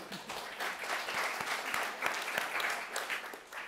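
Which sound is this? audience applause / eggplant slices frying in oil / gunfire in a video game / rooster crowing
audience applause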